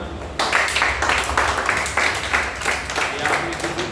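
Sustained applause from a church congregation, steady clapping filling the room throughout with a faint voice underneath.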